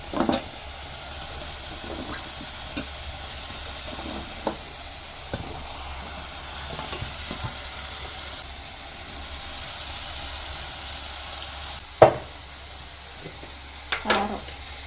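Drumstick pieces fry with onion and tomato in a pan for a milk curry, making a low steady sizzle broken by sparse stirring knocks, including a louder clack near the end.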